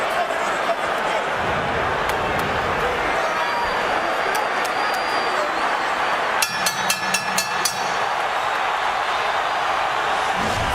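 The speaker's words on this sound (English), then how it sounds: "Crowd starting to get into it" Boxing arena crowd at the Pacquiao vs Mosley fight, a steady roar of many voices building throughout, with a run of sharp hits or claps around the middle and a commentator talking over it.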